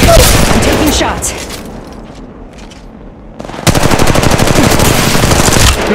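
Automatic weapon fire from Apex Legends Mobile, loud and close, with a dense rapid burst, a lull of softer distant shots, then another sustained rattling burst.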